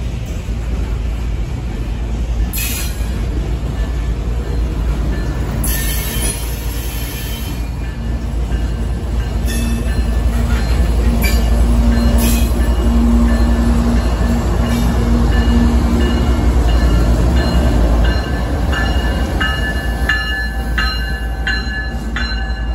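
A long CSX freight train rumbles steadily past at close range, wheels clacking and faint metallic squeals rising now and then over the continuous roar.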